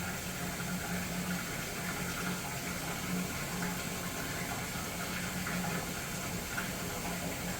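Continuous gushing of dirty water draining out of a commercial kitchen appliance, a steady, even rush heard at low level from nearby with no talk.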